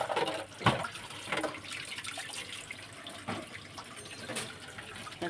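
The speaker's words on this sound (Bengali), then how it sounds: "এখন ওই যে বাসন ধোবো" Tap water runs into a sink while dishes and containers are washed, a soft continuous rush with a few clattering knocks and splashes of handled utensils, heard nearby and fairly quiet.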